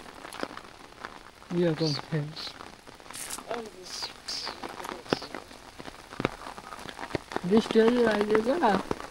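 Rain patters on a river's surface during river fishing, a soft steady hiss with scattered drops, while voices talk over it at intervals.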